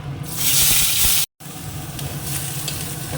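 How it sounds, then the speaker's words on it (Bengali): Onion frying in hot oil in a wok with dried red chilli and cumin: a loud, steady sizzle and hiss, briefly cut off once, then resuming close up. "পেঁয়াজটা ভাজা হয়ে গেছে"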